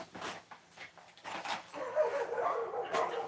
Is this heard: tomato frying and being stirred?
no